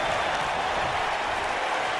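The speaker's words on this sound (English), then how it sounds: "this crowd in the Tokyo Dome here in Tokyo, Japan, are showing their appreciation for both athletes" Crowd applause fills the Tokyo Dome in the WWE 2K23 wrestling video game, a broad, steady roar of clapping and cheering from a large arena audience, sustained and loud throughout.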